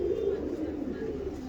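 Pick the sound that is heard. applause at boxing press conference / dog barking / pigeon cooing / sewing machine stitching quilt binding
pigeon cooing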